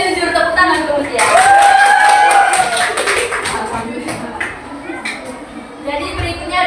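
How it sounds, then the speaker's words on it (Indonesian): Junior high students applaud a classmate in a classroom, with a burst of scattered, moderately loud hand claps lasting several seconds while a teacher's voice continues over and around them. "tepuk tangan ke Mutia"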